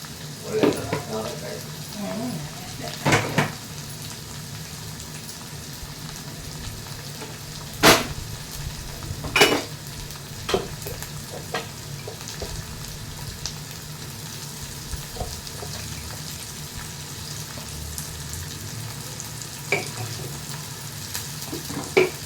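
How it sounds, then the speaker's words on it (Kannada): Low steady sizzle of tempering spices frying in hot oil, with a few sharp pops and crackles breaking through at intervals. "ಈಗ ಸಪ್ಪಿಗೆ ಒಗ್ಗರಣೆ ಹಾಕ್ತಾ ಇದ್ದೀನಿ"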